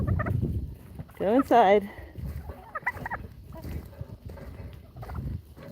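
Young chickens, a black hen called Blackie and two chicks, on a homestead make a brief run of rising gobbling calls up close, with scattered softer clucks, while someone talks to them.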